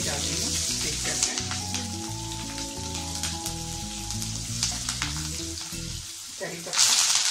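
Two green chillies sizzling in hot oil for coconut rice, a loud close crackling sizzle running throughout under a low hum, with a few stirring scrapes and a sharper spatter near the end.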